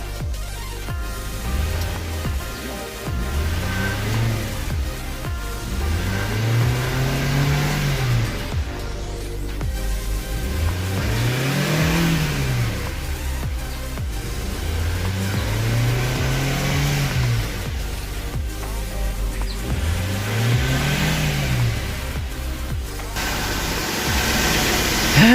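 Nissan X-Trail engine running after a no-idle, no-start fault repair, revving up and dropping back about five times in a steady rhythm, loud and close throughout.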